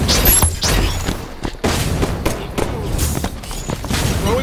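Gunfire in a Halo 5 sniper match on the Riot map, heard as scattered close shots and booming thuds over a busy in-game battle ambience.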